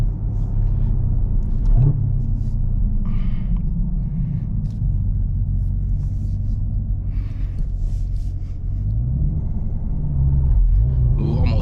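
A stock Chevrolet Camaro ZL1 with a six-speed manual rumbles steadily while driving, with a deep, loud, continuous engine drone heard from inside the car and talk over it.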